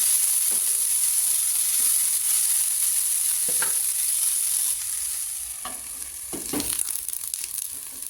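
Soya dumpling vegetables cook in a covered pan with a steady, close, hissing sizzle. Faint occasional clinks and rustles come from the pan, and the sizzle softens slightly partway through.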